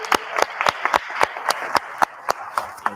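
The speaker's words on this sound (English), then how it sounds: "Let's give another round of applause" A small workshop audience claps in a sparse, uneven burst, with a handful of distinct hand claps standing out sharply against a quiet room.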